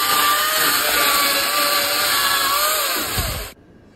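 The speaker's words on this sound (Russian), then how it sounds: "Поэтому беру пилку и вперед. Первая пошла груша." A powered saw cuts through a half-rotten pear tree for firewood, running loud and steady with a slowly shifting whine, then stops abruptly and leaves quiet surroundings.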